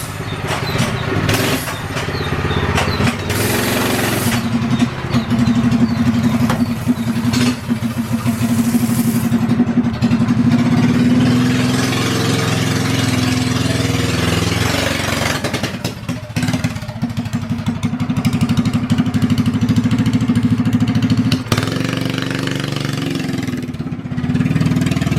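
A Predator 212 engine on a Monster Moto mini bike roars at full throttle, a loud, sustained buzzing drone with brief dips and surges, heard close throughout.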